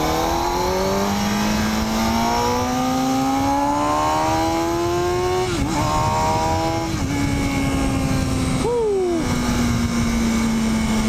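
A 2005 Kawasaki ZX-6R 636 sport bike revs hard through its gears, its engine note climbing steadily in pitch with two brief dips at shifts, loud and close throughout.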